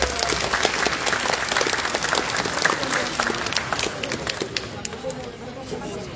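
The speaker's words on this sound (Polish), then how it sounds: "Także też wielkie brawo." Dense, steady audience applause fills a cosplay contest hall at the Gliwice Fantasy Days convention, many hands clapping loudly and continuously, with a voice faintly present underneath before it thins slightly at the end.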